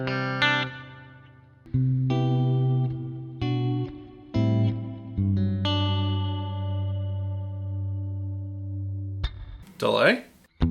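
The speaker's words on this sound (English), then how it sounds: "Now let's dial in some beautiful reverb." Electric guitar played through the reverb effect of a Sonicake Matribox 2 all-in-one pedalboard, clean chords ringing out with long washy tails and sustained decay, several strummed phrases, ending in a brief noisy swell.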